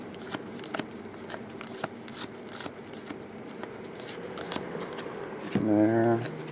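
2015 Bowman baseball cards are peeled apart one at a time, giving soft repeated slides and light flicks of card stock, close by, with a brief louder rustle near the end.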